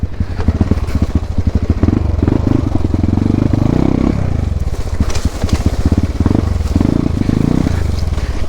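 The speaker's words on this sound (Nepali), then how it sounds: "यसरी जङ्गलमा बाइक कसले कुदाउँछ" A 220 motorcycle ridden along a steep jungle hiking trail, its engine loud and close, revving and labouring in uneven surges, with rattling clatter from the bike over the rough ground.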